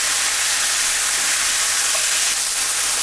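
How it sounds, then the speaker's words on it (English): Beef steak searing in a hot pan for Swiss steak gives a steady, loud broadband sizzle and hiss that runs unbroken throughout, with no voices. "we'll let the other side sear for a couple minutes"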